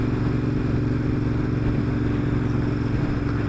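A Royal Enfield Interceptor 650 motorcycle engine runs at a steady, close, continuous drone while riding, with an even low throbbing exhaust note and no talk over it.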